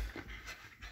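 A dog pants in quick rhythmic breaths while playing with a hand towel, faint and close, in a short burst.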